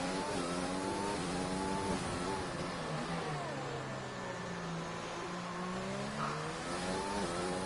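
Race cars in F1 2020 at Brazil's circuit, engines droning and whining steadily as they pass and shift pitch, loud and continuous with a faint commentary voice underneath.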